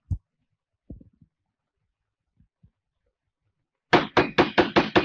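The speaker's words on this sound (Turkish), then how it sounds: "Aç kapıyı Nazlı" A fist pounds on a door in an old Turkish film, a few faint taps first and then a loud, fast run of about six heavy knocks near the end.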